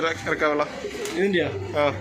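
A high-flying pigeon coos softly in a few short, rolling phrases, close by in a loft, with a voice speaking around it.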